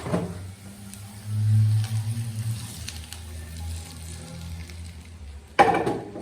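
Hot spice tempering with golden fried garlic and onion poured over beef for kala bhuna sizzles in a pan, a low simmering crackle that swells briefly, then a sharp clatter near the end.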